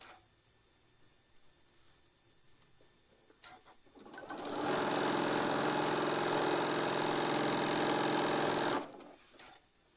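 A sewing machine stitches a quarter-inch seam along the edge of a quilt block, running loud and steady for about four and a half seconds after a quiet start, then stopping abruptly.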